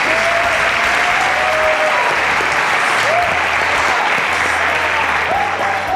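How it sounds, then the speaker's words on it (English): Steady, dense studio audience applause from the Ongacious show fills the space, continuous and loud throughout, with faint voices and whistles blended into the crowd. "A round of applause with yourself."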